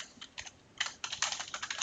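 Keys on a computer keyboard clack in quick, uneven bursts of typing as a Cisco switch configuration is entered, close and clear with no voices.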